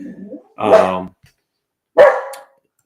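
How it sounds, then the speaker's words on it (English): Two sharp, loud dog barks close by, the second about a second and a half after the first, with quiet between them. "And I apologize for my dogs. They're going crazy."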